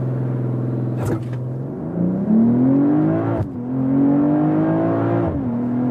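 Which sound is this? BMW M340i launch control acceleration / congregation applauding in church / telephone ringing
BMW M340i launch control acceleration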